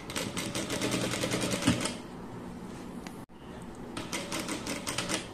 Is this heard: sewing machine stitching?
yes